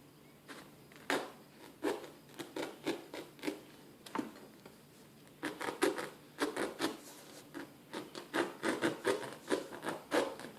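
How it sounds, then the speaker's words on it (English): A knife cuts a circle out of blue closed-cell camp pad foam for a sword pommel, making a series of short, soft scraping and squeaking strokes in uneven bursts, close and quiet. "So let me just cut this out of the blue camp pad real quick."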